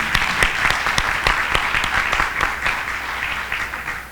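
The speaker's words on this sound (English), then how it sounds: "Let's give him a round of applause for that" An audience at a North Carolina school accountability results event claps for a school leader, a few seconds of steady, moderately dense applause with some sharp individual claps standing out nearby.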